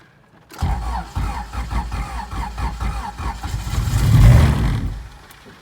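A newly built GSR engine cranks and catches after a short silence, settles into a rough, pulsing idle, then swells in a loud rev before easing back, heard close up.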